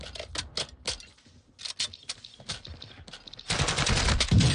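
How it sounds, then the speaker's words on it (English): Rapid automatic gunfire in a squad-based shooter video game, bursts of quick sharp cracks near and loud, with pauses between, building into dense sustained firing at the end. "Taking effective fire."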